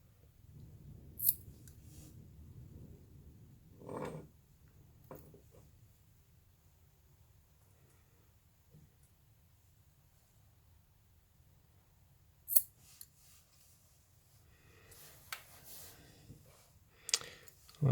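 Scissors snip off the cord ends of a handmade necklace for a pounamu pendant: a few sharp, separate clicks spread over quiet stretches, close and crisp.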